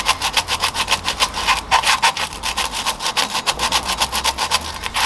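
Sandpaper rubbed back and forth over the rusty brake drum of a 2011 Toyota Corolla, a steady rhythmic scraping of about two strokes per second, close and loud, with a low engine-like hum beneath.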